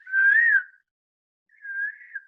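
A person whistles back and forth in imitation of a cuckoo's call, two clean sustained whistled phrases separated by a short pause, clear and close with nothing else audible.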